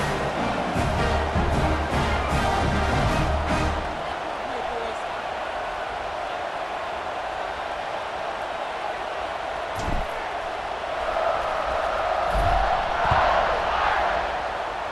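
A football stadium crowd, Notre Dame against Nebraska, roars in a sustained wash before kickoff, swelling loud at the start and again toward the end, with a commentator talking over it.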